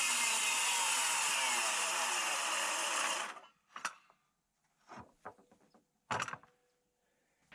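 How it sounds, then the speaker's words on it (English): A power saw fitted with a carbide blade whines loudly for about three seconds as it cuts through cement siding, then spins down, followed by a few scattered knocks and handling sounds. "Now I'm using a special carbide blade that is made just for cutting cement siding."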